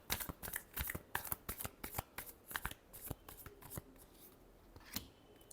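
Tarot cards are riffled and shuffled by hand in a quiet room, a quick run of sharp papery flicks and snaps in irregular bursts, close and fairly soft, with no voice.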